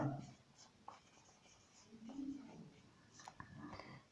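A pen scratches across paper while a maths problem is worked out, giving quiet, intermittent strokes with short pauses between them. A soft voice can be heard faintly in the background.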